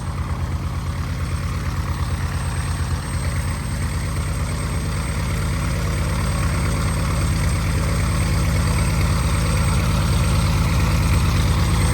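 A 1948 Cessna 170 with a Continental O-300 engine idles steadily after its first start following a long sit, a loud, even, throbbing drone that continues without a break and without talk.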